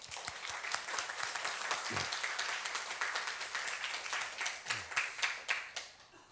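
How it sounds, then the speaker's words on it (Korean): A church congregation applauds its choir after a hymn, with a close, steady patter of many hands and a few sharper individual claps standing out, fading toward the end. "박수를 한번 드릴까요?"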